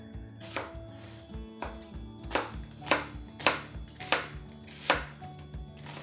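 A knife chops produce into half-inch cubes on a cutting board, giving about eight to ten crisp, close knocks at an uneven, unhurried rhythm, with no talking.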